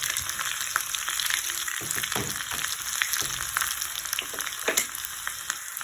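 Chillies and other ingredients sautéed in a pan give a close, continuous sizzle with scattered scraping stirs and crackles, and no one speaks.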